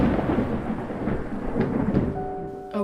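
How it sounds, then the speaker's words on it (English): Rain pours steadily during a thunderstorm at an outdoor plant-sampling site, with a deep rumble of thunder rolling underneath, loud and close, and no voices. "How can it be raining again?"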